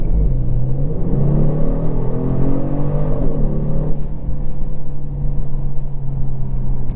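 2022 Genesis G70 3.3T AWD pulling away after a turnaround, a close, loud engine rumble that climbs in pitch as it accelerates, then settles into a steady drone with road noise, no voices heard.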